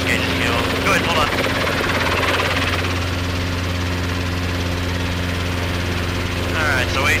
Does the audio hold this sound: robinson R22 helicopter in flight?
yes